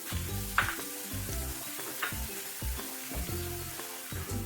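Finely chopped garlic sizzles steadily in about half a cup of oil in a pan over a medium flame, with soft scrapes and clinks of stirring breaking up the constant frying hiss.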